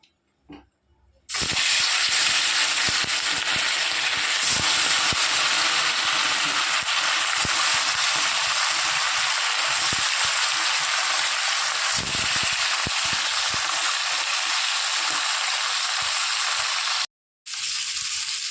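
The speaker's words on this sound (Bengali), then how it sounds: "তেল ভালো মতো গরম হয়ে গেছে এবার এখানে এক এক করে মাছগুলো আমি ছেড়ে দেবো" Rohu fish pieces hiss and sizzle loudly as they fry in hot oil, a dense, steady crackle that starts abruptly and keeps going almost without pause, with one brief break near the end.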